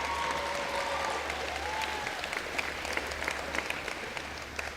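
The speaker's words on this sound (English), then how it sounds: "Let's give them a warm round of applause for their help with tonight's debate" Applause for the media panel at a gubernatorial campaign debate: a crowd claps steadily and warmly for several seconds, dense and fairly distant in a hall.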